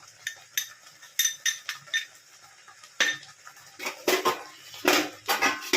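Spice powder being stirred into shredded raw mango pickle, heard as a series of quick clinks and scrapes of a spoon against a bowl, close up, speeding into denser strokes toward the end, with no talking.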